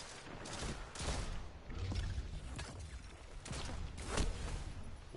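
Shotgun fire in a first-person video game, a series of sharp, loud blasts scattered across a few seconds amid busy game noise, with no talking.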